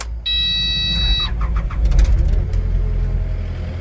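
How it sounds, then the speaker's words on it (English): A Kubota KX080 excavator engine cranks and starts: a steady electronic warning tone sounds first for about a second, then a deep diesel rumble swells and settles into a loud, even idle up close. "First, you start the machine."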